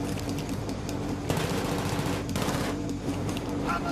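Automatic gunfire in a Battlefield 3 match on a subway map, with rapid bursts and shots over a dense, loud rumble of game battle noise, steady across the whole stretch.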